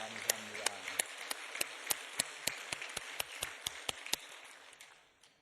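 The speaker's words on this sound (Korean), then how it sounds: "뜨겁게 한 번 더 격려 박수하겠습니다" Church congregation clapping in unison with a sharp, evenly spaced rhythmic beat that fades out at the end, with a brief voice at the start.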